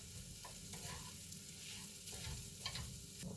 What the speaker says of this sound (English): Give it a quick stir to make sure everything is combined and warm.